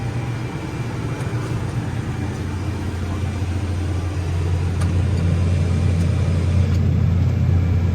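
A tractor engine working under load while harrowing a muddy field at about 1,780 RPM, a steady low droning rumble that holds constant throughout, close and continuous with no talking.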